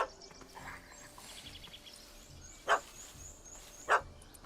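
A puppy in The Witcher 3 gives two short, sharp barks a second apart, moderately close, over quiet outdoor game ambience with faint birds.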